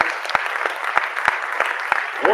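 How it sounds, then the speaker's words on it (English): An audience at a democracy and human rights festival in Kenya applauds, dense steady clapping with a few sharper individual claps standing out, loud and close throughout. "Round of applause"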